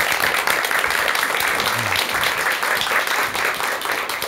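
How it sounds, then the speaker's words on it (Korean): Full, steady applause from a lecture audience greeting a speaker before a talk about death, dense clapping that fills the room throughout with a brief low murmur partway through. "여러분 큰 박수 부탁드리겠습니다."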